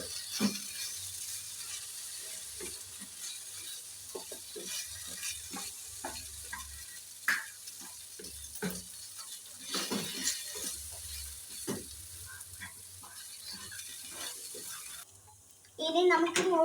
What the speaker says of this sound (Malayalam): ഇനി നന്നായി ഇളക്കി യോജിപ്പിക്കാം.